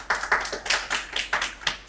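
Audience applause at a poetry performance on a reality show, heard as a short burst of uneven hand claps about three or four per second, fairly faint, with no talking.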